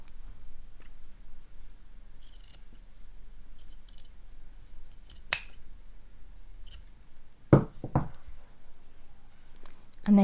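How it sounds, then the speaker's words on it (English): Scissors trim a fabric seam allowance and corner on a zip tote bag, with a few quiet, sparse snips close by, then two sharper cuts near the end over a low background hum. "just trim down this seam allowance a little to about 1/2 cm"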